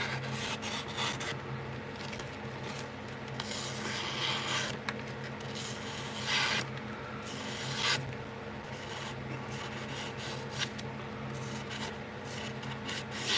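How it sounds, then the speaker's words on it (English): A file rasps steadily along a blade's edge to take off the burr, a continuous close, harsh scraping with strokes running together and a few brief pauses between passes. "Might as well sharpen it until it's really sharp."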